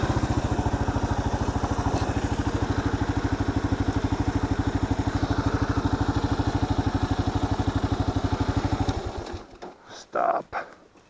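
A Kawasaki KLR dual-sport motorcycle engine idles steadily up close for about nine seconds, a fast even thump with a clattery edge, then it cuts off and gives way to a few brief rustles and a faint voice.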